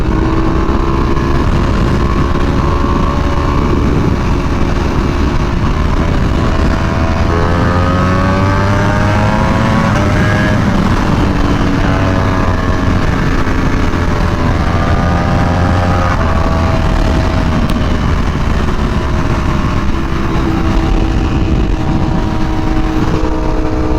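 A Ducati Panigale V4R motorcycle engine revving at high RPM, a loud, sustained close-up howl with pitch sweeping up and down through the gears.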